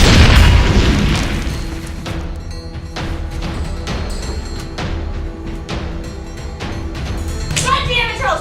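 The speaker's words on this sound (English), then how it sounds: "Grenade!" Grenade explosion in a 2014 gang war action film, a loud booming blast at the start that rumbles and fades into continuing gunfire and crackling debris.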